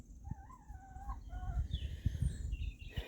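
Hens cluck and call near a chicken coop, a few close, shrill rising notes over a soft rustle, with light thumps and scratching from the birds moving about.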